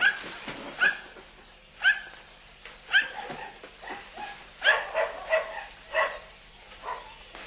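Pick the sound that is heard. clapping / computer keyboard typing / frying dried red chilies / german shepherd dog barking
german shepherd dog barking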